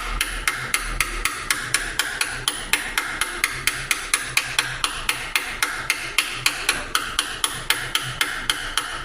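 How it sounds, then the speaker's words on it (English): A small hammer taps a part home on a 1.0L Ford Fiesta EcoBoost engine during a wet belt job, giving about thirty crisp, evenly spaced metallic knocks close up, with no talk. "You should hear the tone actually changing as you're hitting it in, and that's when you know it's home"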